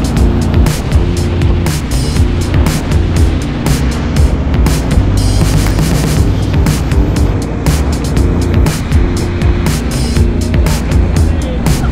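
Ocean surf rolls in a steady, loud wash of breaking waves close by, with a continuous low rumble that could include an engine hum underneath, and no clear talk.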